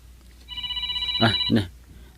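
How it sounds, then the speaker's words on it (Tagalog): A cellphone rings with a steady electronic tone, loud and close, while a voice speaks over the end of the ring. "Agri-ring ti cellphone ko."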